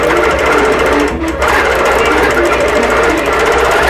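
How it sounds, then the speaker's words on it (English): A quilting sewing machine stitches small doodle patterns across the top of a batik Christmas quilt, a loud continuous mechanical buzz close up with one short dip midway. "it's asking me the first pattern to sew, so it's going to be the very top"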